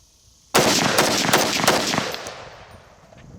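A DSA SA58 FAL rifle, cleaned after a mud test and fitted with a new magazine, fires a loud rapid string of shots outdoors, the reports running together before fading into a decaying echo.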